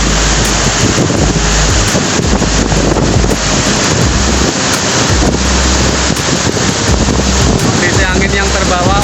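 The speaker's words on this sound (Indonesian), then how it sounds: "Kondisi angin yang terbawa oleh aliran air terjun begitu kencang di lokasi ini." Strong wind roars into the microphone beside a jungle waterfall deep in the forest, a loud, unbroken rush of buffeting gusts and falling water spray.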